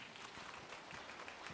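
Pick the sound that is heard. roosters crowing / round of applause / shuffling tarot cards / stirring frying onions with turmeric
round of applause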